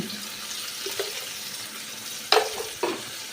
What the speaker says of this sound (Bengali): আমি আগে থেকে কেটে রাখা পেঁয়াজ আর টমেটোটা এর মধ্যে দিয়ে হালকা করে ভেজে নেব